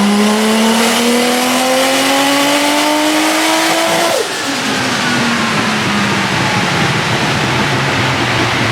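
A turbocharged Mazda RX8 with a K24 engine swap accelerates loudly and close, the engine note climbing steadily and then dropping sharply at a gear change before pulling again, with no talking.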